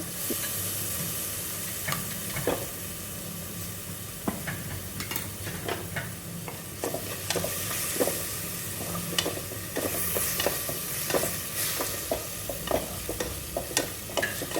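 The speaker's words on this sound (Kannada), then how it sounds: "ಮತ್ತೆ ರುಬ್ಕೊಂಡಿರೋ ಮಸಾಲೆನೂ ಹಾಕ್ಕೊಳ್ತಾ ಇದ್ದೀನಿ. ಚೆನ್ನಾಗಿ ಹುರ್ಕೊಳ್ತಿದ್ದೀನಿ." Ground masala with salt and turmeric fried and stirred in a pan for vegetable pulao: a steady close sizzle broken by frequent scraping clicks of the spoon, with no talking.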